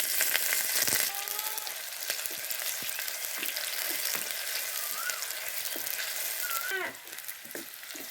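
Onions sizzle and crackle steadily in hot oil spiced with whole garam masala, with occasional faint stirring clinks.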